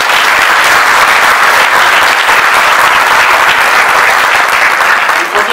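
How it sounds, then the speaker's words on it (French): A crowd at a graduation ceremony for advanced-degree graduates applauds warmly, loud, continuous clapping filling the hall without a break. "je vais vous demander de les applaudir donc chaleureusement."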